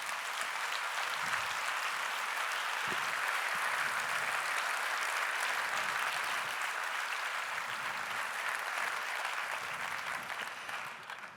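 A large crowd at an award ceremony applauds steadily for about eleven seconds, dense continuous clapping that fades slightly at the end.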